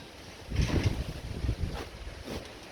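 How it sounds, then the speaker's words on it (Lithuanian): Strong gusts of wind buffeting an outdoor yard where birds are kept, rising in rough swells and rumbling against the microphone, loud and close with brief lulls between blasts. "paukščiai nenori eiti, tokį smarkų vėją, matot"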